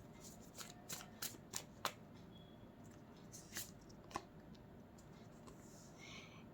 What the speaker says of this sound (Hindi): यहाँ पर मैं थोड़े से और कार्ड्स निकालना चाहूँगी